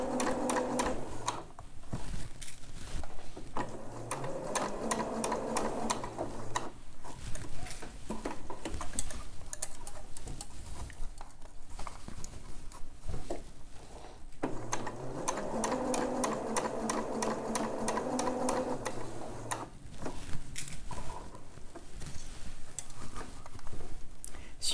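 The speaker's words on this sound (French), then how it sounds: "Si vous avez une machine où vous avez l'option position basse pour l'aiguille, ça peut être le moment d'utiliser." A sewing machine stitches a bra in two long runs of rapid, even needle chatter, with short pauses and quieter handling noises between them, close and clear with no talk.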